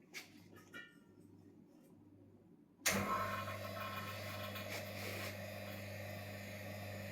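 A vacuum pump starts up abruptly partway through and settles into a steady, droning hum with a low tonal whine while evacuating the refrigerant system of a Tesla Model S Dual Motor; close, continuous, after a quieter stretch of faint shop noise.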